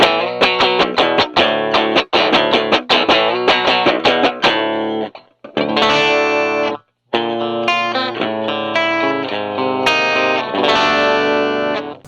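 An electric guitar drives a fuzz tone through a Morley Volume Commander with both channels engaged, giving a bright, sparkly distorted sound: rapid strummed chords, then ringing sustained phrases with brief gaps, loud and close.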